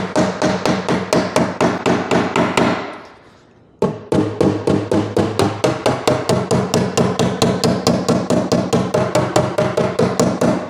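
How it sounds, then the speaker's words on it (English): Steady, rapid hammer blows ring on a buckled car door's sheet metal, loud and close with a metallic clang, broken by one brief pause before the rhythmic striking resumes. "when you hit it with a hammer, this vibrates and flies off"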